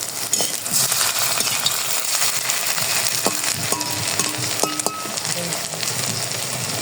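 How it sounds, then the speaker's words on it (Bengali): Paneer fritters (bora) frying in hot oil, with a steady, fairly loud sizzle and crackle broken by scattered small clinks of stirring. "এই যে বড়াগুলো এখন তেলের মধ্যে"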